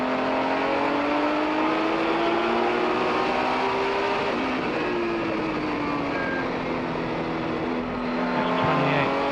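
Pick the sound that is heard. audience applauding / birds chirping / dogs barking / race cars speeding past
race cars speeding past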